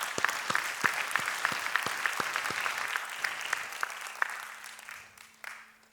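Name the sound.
round of applause for the educators at graduation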